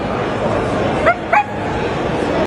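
A woman imitates a dog barking, giving two short, yippy bark sounds close by over a steady murmur of background crowd noise.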